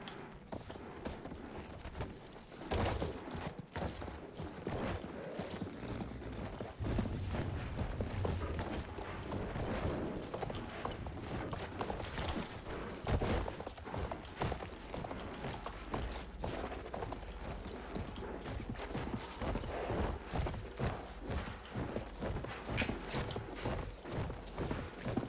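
A horse's hooves clip-clop in the World War I video game Battlefield 1, a long, steady run of close hoofbeats with faint mechanical clanks and muffled gunfire in the background.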